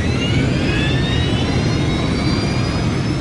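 Air France Flight 358, a jet airliner, takes off from Paris with a loud, continuous roar of engines under full power, broadband rumble and a rising whine, with no voices.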